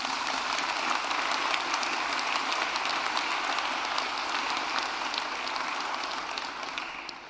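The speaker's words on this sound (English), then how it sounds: "Let's give them a hand of applause." A council chamber audience at an annual general meeting claps steadily and evenly, a dense wash of applause that tapers slightly at the end.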